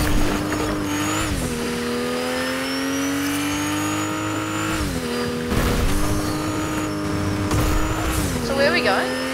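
Video game car engine droning and revving steadily with pitch shifts as it accelerates and shifts, plus occasional skids, loud and continuous under background game sounds.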